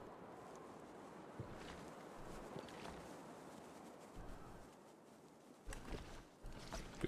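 Gusty wind blows across the wilderness in The Long Dark on Interloper difficulty, a low, quiet rumbling roar that swells and dips in uneven bursts, with brief louder buffets near the end.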